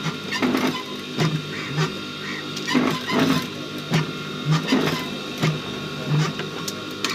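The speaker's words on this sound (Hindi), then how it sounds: "अब हम इसको थोड़े थोड़े पॉइंटों में सिलाई मार के" A sewing machine stitches a jeans shirt in short, repeated bursts of rapid mechanical whirring, each lasting under a second with brief pauses between, loud and close.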